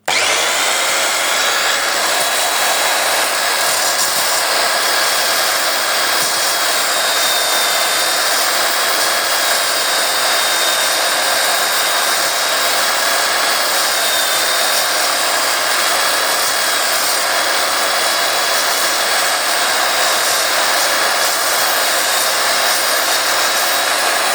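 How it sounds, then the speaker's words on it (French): A belt sander whirs continuously and loudly, grinding against a wooden dowel to round its end, in a steady, high-pitched drone with no pauses. "je vais faire ici à la ponceuse à bande un arrondi pour pouvoir rentrer dans la visseuse"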